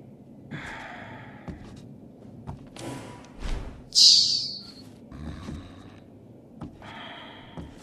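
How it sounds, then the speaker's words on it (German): A man snores in the game Thief, slow breathy snorts and sighs at irregular intervals with quiet pauses between, one louder hissing exhale in the middle. "Er schnarcht die ganze Zeit."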